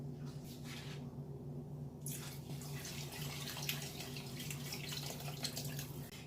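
Three cups of water pour steadily into a pot of lentil curry, a soft continuous splashing with a low hum underneath and no talking.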